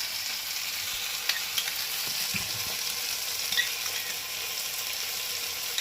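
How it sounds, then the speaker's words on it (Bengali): Soya chunks being stir-fried on a high flame for restaurant-style Bengali chili soya, giving a steady close sizzle and crackle with occasional stirring scrapes and no talk. "সেই জন্য আমি হাই ফ্লেমে এটাকে কষিয়ে নিলাম।"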